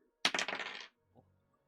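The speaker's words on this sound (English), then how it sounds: "If you're listening to the stream, you'll hear me roll dice." Dice rolled during a tabletop role-playing game session, a bright rattling clatter of small objects tumbling onto a surface for about half a second, followed by a faint softer knock, with no talking.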